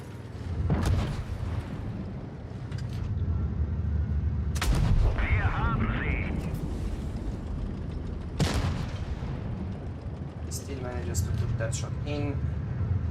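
Gunfire and artillery blasts in a tank battle video game, a few loud booming shots spaced through the stretch over a steady rumbling engine bed, with excited talk from players over the top.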